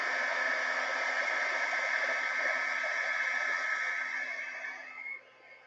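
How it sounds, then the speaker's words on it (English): A very old heat gun runs close by as it heat-sets paint on a mixed media floral container, making a loud, steady blowing whoosh that winds down at the end. "Have my super, super old heat gun. Oh my God, this thing is ancient. It's going to get a little loud."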